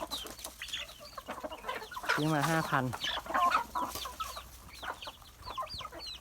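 A fighting rooster kept as a breeding cock on a farm clucks and gives a brief throaty, crow-like call near someone speaking, with other birds faint in the background.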